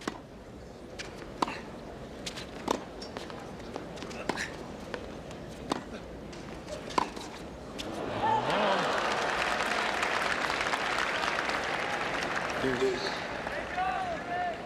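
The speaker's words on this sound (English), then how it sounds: "This crowd coming to life again" Tennis crowd at the 1989 US Open during Jimmy Connors' second-round match against Bryan Shelton, scattered individual claps at first, then swelling into a fuller burst of applause and crowd noise.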